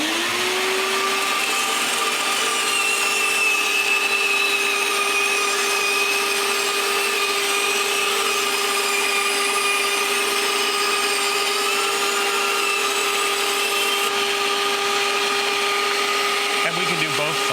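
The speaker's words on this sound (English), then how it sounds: "So I've already adjusted the guide on the bandsaw so that this will fit under it, but fairly tight." Bandsaw cutting a wooden piece for a pendulum clock, a loud continuous whining hum with a steady high tone throughout, no talking over it.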